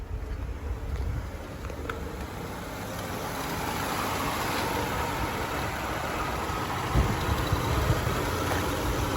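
The 3.2-liter six-cylinder engine of a 1994 Mercedes-Benz E320 Convertible idles steadily with a low, even rumble, fairly quiet and unchanging throughout.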